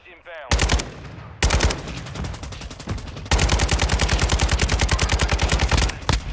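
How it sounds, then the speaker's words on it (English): Automatic gunfire in Warzone 2.0 (Modern Warfare II) rattles in loud, rapid bursts, the last one a long sustained stream of shots, with a voice briefly heard beneath the firing. "They were shooting at more people over here, though."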